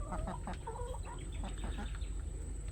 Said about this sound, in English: Chickens are vocal today and they're nearby.